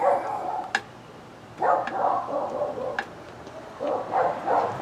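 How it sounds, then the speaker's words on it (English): Several neighbouring dogs bark in short bursts at a moderate distance, with yips and pauses between volleys against a quiet outdoor night background. "Dogs over there next door going off."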